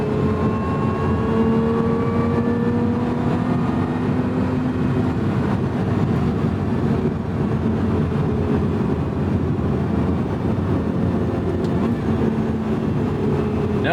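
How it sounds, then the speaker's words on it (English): A 2024 Lotus Emira's supercharged Toyota V6 with manual gearbox drones loudly and steadily from inside the cabin on a canyon road, its pitch sliding slowly as revs rise and fall under constant road rumble. "Who would have thought a supercharged Toyota V6 can sound that good?"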